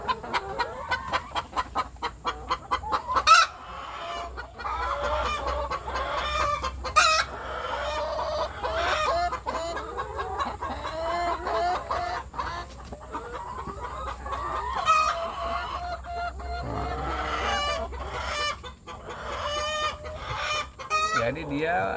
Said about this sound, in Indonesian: Nah, itu ayamnya baru bertelur, ya.